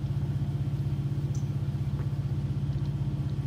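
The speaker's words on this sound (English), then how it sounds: "the sounds of the locomotive sound throaty" A simulated SD70 diesel locomotive idles on a grade in the Run 8 train simulator, giving a steady, throaty low rumble with a rapid even pulsing throb that holds constant throughout, with no talk.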